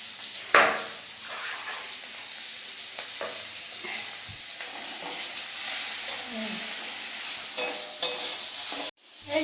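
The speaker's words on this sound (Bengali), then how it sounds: "আমার পেঁয়াজটা ভাজা ভাজা হয়ে গেছে, এবার দিয়ে দেব কটা চিংড়ি মাছ" Shrimp sizzle in a pan of fried onions, a continuous crackling fry with a loud burst near the start, then stirring scrapes and a few utensil clinks before a sudden stop.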